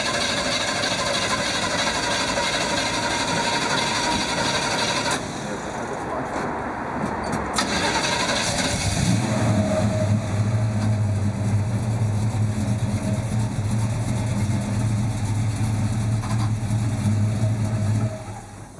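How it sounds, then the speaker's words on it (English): An old Chevy car engine turns over and settles into a loud, close, low rumble as the car rolls a short way forward. Steady broadband noise fills the air before it starts. "Lothar, der fährt ein Stück nach vorne"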